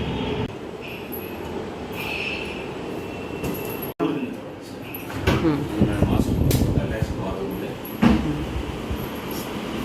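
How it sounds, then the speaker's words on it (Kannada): A Bangalore metro train rumbles past near Mantri Square apartments with squealing wheels and a rushing roar that swells midway, while people speak nearby. "ಅಲ್ಲಿ ಬರ್ತಾ ಇದೆ ಇದು ಮೆಟ್ರೋ"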